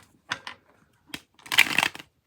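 Several quick riffles of shuffled tarot cards, short papery bursts with pauses between, ending in a longer crisp flutter.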